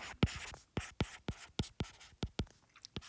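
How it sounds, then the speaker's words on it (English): Pen or pencil scratches across paper while math is written out during a lesson, a steady run of short, close strokes and taps with no talking. "I'm going to write down possible roots"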